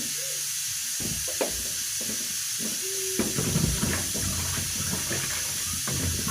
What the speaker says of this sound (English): Sometimes I leave them for some few minutes here in the water, but today I just wash them.